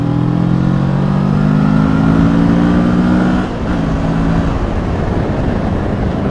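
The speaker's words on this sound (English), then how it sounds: "this mic will be able to pick up the growl of the engine here" A 2017 Kawasaki Z650 motorcycle engine rises in pitch as it accelerates, with a steady exhaust growl, a brief dip as it shifts, then a continued strong pull, with no talking.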